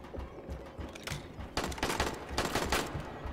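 Military rifles fire in Dying Light, several close bursts of rapid shots, quieter at first and then louder, separated by short pauses over a busy game soundscape.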